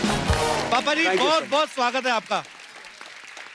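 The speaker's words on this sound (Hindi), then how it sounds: "एक बार जोरदार तालियां" Studio audience at a televised comedy talk show applauds arriving guests; a brief burst of clapping at the start quickly gives way to someone speaking a welcome over fading applause.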